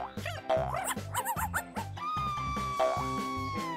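Cartoon dog barking in a series of short, bright yips and bow-wows over a loud, steady musical background, near and prominent throughout.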